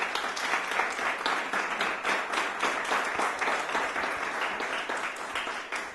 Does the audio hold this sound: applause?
yes